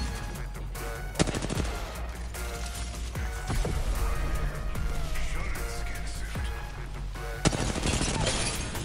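Rapid bursts of automatic gunfire in the battle royale game Apex Legends, with loud sustained volleys and sharp individual shots, some from behind, continuing almost without pause.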